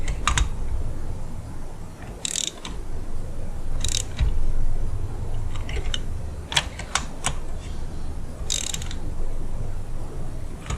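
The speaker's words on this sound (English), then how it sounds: "I'm going to just go ahead and give them just a gentle tightening until I feel that crush washer going" A ratchet tightens spark plugs on a 2005 Honda CR-V engine, with scattered sharp metallic clicks and short ratcheting bursts over a steady low background hum.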